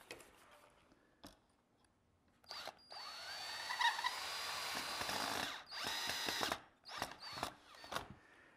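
Power drill driving pan-head screws into kitchen cabinet parts in a woodworking shop, a few short bursts and then a long sustained whir of several seconds, close and fairly loud, with brief pauses between runs.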